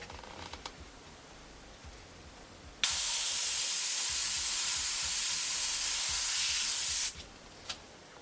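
An airbrush sprays paint in one steady hissing burst lasting about four seconds, close and loud, set between quiet moments with faint small clicks.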